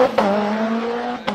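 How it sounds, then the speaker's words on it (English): Nissan GT-R engine revving hard and holding a steady high-pitched drone, close and loud, with short sharp bursts at the start and end, no voices. "Anytime a kid wants to hear it rev, I'm revving it."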